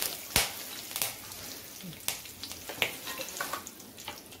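Peanuts and curry leaves frying in hot oil in a wok after mustard seeds and cumin crackled, a steady sizzle broken by sharp pops and spits every half second or so, close up.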